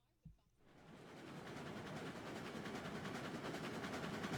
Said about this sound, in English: The train's in full speed.